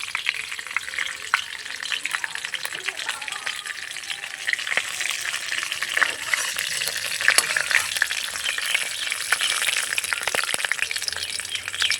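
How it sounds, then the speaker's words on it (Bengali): Whole cumin seeds frying in hot oil for a khichuri tempering give a dense, continuous crackling sizzle with rapid pops, close and steady throughout with no talk. "এখন দিয়ে দিব গোটা জিরে"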